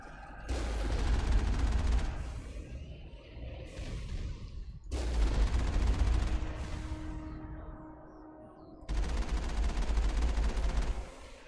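Moving turrets fire in Mass Effect in long, loud sustained bursts of rapid gunfire, three barrages separated by brief lulls, with no voices over them.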